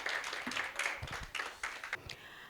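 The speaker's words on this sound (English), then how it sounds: "A round of applause, please." An audience at a pageantry seminar gives brief, scattered applause, the claps fairly faint and irregular for a couple of seconds, fading into a few isolated claps.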